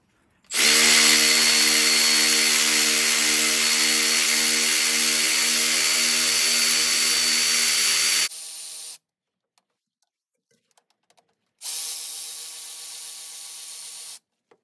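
A Milwaukee cordless power ratchet whirs loudly and steadily for about eight seconds while loosening bolts on a Paccar MX-13 air compressor head, briefly changing pitch before stopping, then runs again for a few seconds after a pause.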